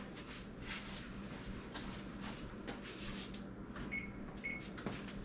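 An oven being set to 350 degrees, with several faint clicks, clunks and short electronic beeps over quiet kitchen background.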